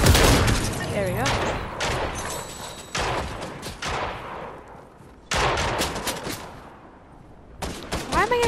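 Rapid automatic gunfire in Fortnite, loud close bursts of rattling shots separated by short pauses, with a voice talking under parts of it.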